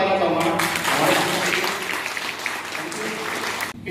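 An audience at a wellness business seminar breaks into vigorous applause, a dense wash of clapping that stays strong and then eases slightly toward the end, with a faint voice mixed underneath.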